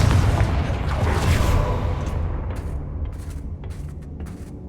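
A Confringo blasting spell explodes in the Hogwarts Legacy video game. A loud, deep boom rumbles and slowly fades, followed by scattered smaller crackles and pops.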